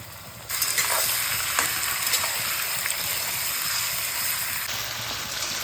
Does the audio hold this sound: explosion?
no